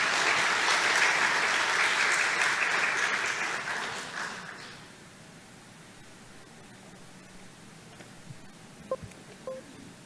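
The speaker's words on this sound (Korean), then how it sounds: "우리 목사님 일어나서 인사하실 때 우리 뜨겁게 박수로 환영하면 좋겠습니다" A church congregation applauds warmly to welcome a guest pastor, a dense sustained burst of clapping that fades out after about four seconds, leaving a quiet room with a few faint knocks.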